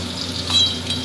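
Koi fish pieces frying in hot oil for a fish curry, a brief steady sizzle with a faint clink of utensils.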